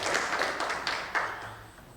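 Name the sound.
congregation applauding in church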